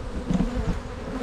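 Honey bees buzz in a dense, continuous drone right in front of an outdoor hive, close and steady with no voices present.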